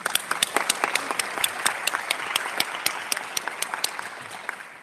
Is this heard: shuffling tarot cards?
no